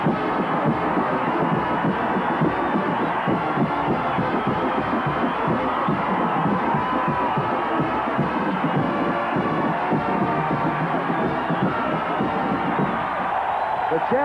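A stadium crowd of 75,000 at the 1987 Cotton Bowl in Dallas roars continuously as Ohio State takes the field against Texas A&M, a dense, steady wash of cheering under a broadcast announcer's voice.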